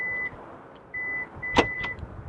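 A 2016 Kia Optima gives a few short electronic beeps near the trunk as the key fob comes close, each chirp clear and brief against a quiet background.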